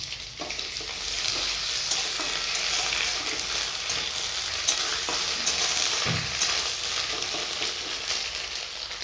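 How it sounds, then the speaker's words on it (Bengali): Browned onions and ginger paste frying in a pan, with a soft, continuous hissing sizzle and an occasional faint scrape of stirring. "পেঁয়াজগুলো লাল হয়ে গেছে এবারে দিয়ে দিব আমি আদা বাটা"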